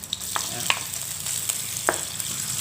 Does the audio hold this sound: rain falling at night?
no